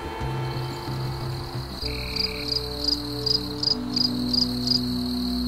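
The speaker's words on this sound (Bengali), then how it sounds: "ঝিঝি পোকা অনবরত ডেকে চলেছে" Crickets chirping at night in an open field, with a steady high trill and a row of pulsed chirps in regular bursts over a low droning hum, continuous and fairly close.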